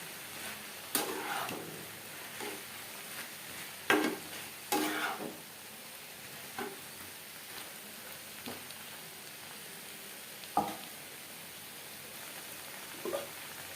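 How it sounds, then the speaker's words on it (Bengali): Vegetables and lentils for egg khichuri stirred in a pan over a medium flame, a faint soft sizzle under scattered light scrapes and clinks of the spoon against the pan. "যেহেতু ডাল রয়েছে, এভাবে একটু নাড়াচাড়া করে দিতে হবে"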